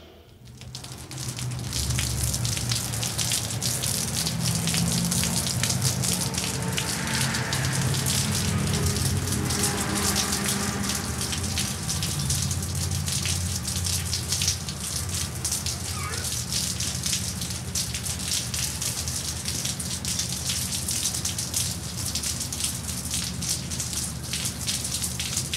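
Steady rain falls on a city street, a dense, even hiss that runs unbroken and fairly loud throughout, with a low rumble underneath and no other sounds standing out.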